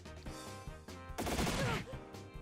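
Gunfire from a boss in the video game Trails in the Sky, a burst of rapid shots over layered game music and effects, with a loud cluster in the middle of the passage.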